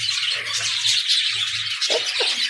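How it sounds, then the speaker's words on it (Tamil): Dense, high-pitched chirping of many small birds on an organic farm, continuous and fairly close, with a few low coos underneath. "பார்த்தீங்களா குருவி வந்து சத்தம் போடுது"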